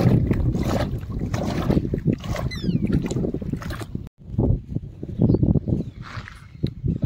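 Close water waves lapping in irregular washing surges with wind noise; a brief bird chirp rises above it early on, and there is a short break midway.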